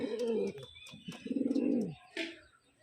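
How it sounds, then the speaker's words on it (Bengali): Young pigeon cooing in a few low, rolling bursts close by, with a brief higher chirp near the end and no talk. "সারাদিন উড়ে এই পায়রার বাচ্চা"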